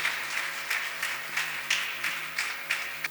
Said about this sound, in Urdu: ہم بھرپور تالیوں میں ان کو ویلکم کرتے ہیں